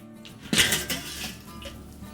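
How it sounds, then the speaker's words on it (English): A metal lid lifted off a kettle BBQ grill smoking meatballs, a single clanking metallic clink followed by a few faint rattles, close by, with no talking. "let's open up the kettle and we'll take a look at the internal temperature"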